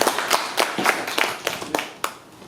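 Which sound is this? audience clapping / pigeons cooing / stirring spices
audience clapping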